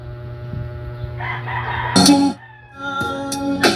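A rooster crows loudly over a steady synthetic beat in a song remix, the crowing repeated and layered into the music.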